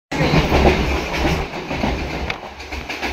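A Tarakeswar local train runs past on the railway close by, producing a loud, steady rumble with rhythmic clickety-clack of wheels over rail joints and no talking.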